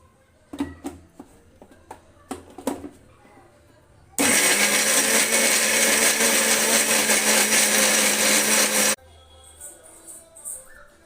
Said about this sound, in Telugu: కొంచెం అయితే వాటర్ వేసుకొని మిక్సీ పట్టేసుకుంటాను నేను